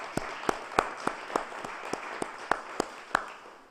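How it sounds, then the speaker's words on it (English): Sparse clapping from a small group at a mayor's news conference, about a dozen distinct claps in a loose rhythm against a quiet room. "Can we have a round of applause for them?"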